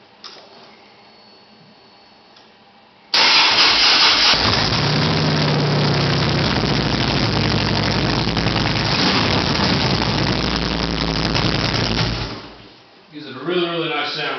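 A 2007 Harley-Davidson Street Glide engine with dual Reinhardt exhaust cranks and catches abruptly, then settles into a loud, steady, throaty idle that runs on for several seconds before dipping briefly and picking up again.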